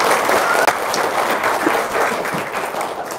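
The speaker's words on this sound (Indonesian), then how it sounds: "Tepuk tangan dong." Audience applause after a speaker's prompt at a religious gathering in Indonesia, a dense steady wash of many hands clapping at close range, holding throughout with no voices over it.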